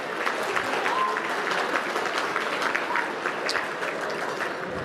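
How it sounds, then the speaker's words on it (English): Guests at an anniversary gala dinner give the servers and caterers a round of applause, steady, moderately loud clapping from a sizable crowd with faint voices mixed in. "Let's give a big round of applause to our servers"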